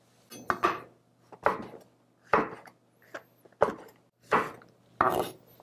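A knife chops pen shell scallop adductor into thick slices on a cutting board, six distinct crisp strokes spaced about a second apart, close and clear with no talking.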